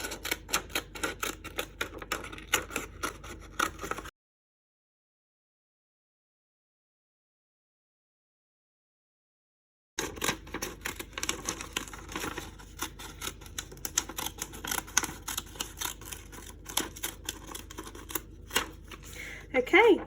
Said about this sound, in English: we'll get our paper and we'll cut it out.